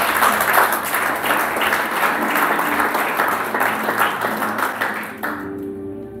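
A church congregation applauds in praise during a worship service, steady dense clapping filling the room before thinning out near the end, with faint music lingering underneath.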